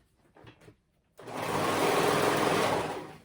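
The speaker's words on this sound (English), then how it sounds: "we're gonna go all the way around that crotch area and sew them together, those two pant legs together." A sewing machine runs in one continuous, loud, steady burst, stitching two pant legs together around the crotch of kid's joggers, after a brief quiet rustle.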